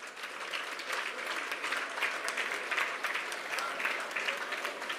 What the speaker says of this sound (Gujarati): એ સ્ત્રીઓ માટે એ ભારત માતા માટે એકવાર તાળીઓ વગાડશો